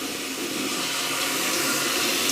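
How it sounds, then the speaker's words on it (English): Running water rinsing a part from a vintage National Panasonic SG-3090L stereo, a steady, close, fairly loud tap-like flow that continues without break and without talk. "Let's get this part off and just rinse it in water."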